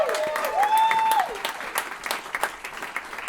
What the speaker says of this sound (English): give a round of applause for the cast of The Roast of Darth Vader